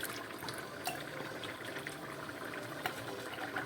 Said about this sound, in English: we're gonna pour it into here, remove every inch of sauce on there